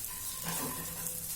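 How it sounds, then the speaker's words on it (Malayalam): Sardine fish masala sizzling in oil while being stirred, a faint steady hiss with a soft scrape of the spoon midway. "നന്നായിട്ട് ഇളക്കി കൊടുക്കാം"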